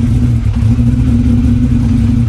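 A Lamborghini Murcielago engine running loud and close, a steady deep mechanical drone with slight revving and clatter, no voices.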